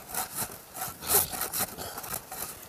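A new saw cuts through wood in a rhythmic series of rasping strokes, fairly close and steady, with no talk.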